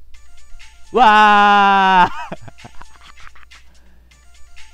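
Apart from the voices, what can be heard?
mobile phone ringtone ringing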